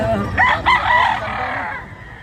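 A native chicken calling nearby in a loud, close burst of two or three rising clucks or crow-like notes that fade into background rustle, with a faint voice underneath.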